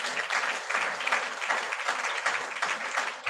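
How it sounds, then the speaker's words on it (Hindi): A congregation at a Friday church meeting claps for God in a dense, steady burst of loud, sustained applause filling the space, with no voices standing out. "जोरदार ताली बजाओ परमेश्वर के लिए।"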